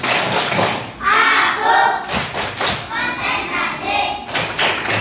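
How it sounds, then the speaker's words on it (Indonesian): Children in an Indonesian primary classroom perform a rhythmic concentration clap, with repeated thudding hand claps in steady bursts mixed with group chanting voices. "Ayo, tepuk konsentrasi"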